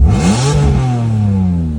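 A 2001 BMW M3 with its exhaust cutout open: a loud, rough engine revving up and settling into a deep, throaty rumble, close by and continuous with no talking.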